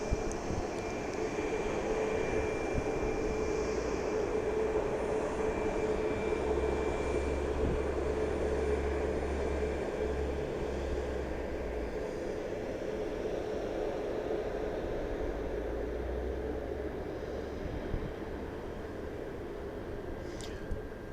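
Continuous broad roar of an MD-83 jet airliner at Dallas Love Field at night, steady and fairly distant, holding level for the whole stretch with no talk.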